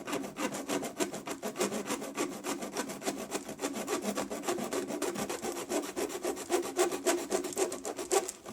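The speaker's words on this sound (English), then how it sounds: "pull in the reverse direction just to start my cut" A hacksaw cuts through metal-clad MC electrical cable in quick, even back-and-forth strokes, a rasping scrape that repeats steadily and close throughout, with no talking.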